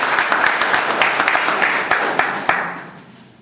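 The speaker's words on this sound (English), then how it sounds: "let us give a big round of applause for a job very well done, Mahavir." A seated audience at a speech evaluation session claps together in a dense, close burst of applause that holds steady and then tapers off toward the end.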